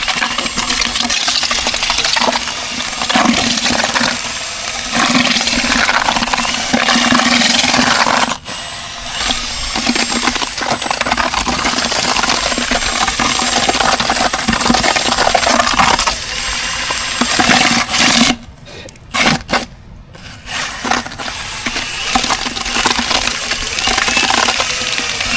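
Lime mortar for repointing being mixed by hand, a continuous gritty scraping and churning that runs loud and close, with brief pauses between strokes.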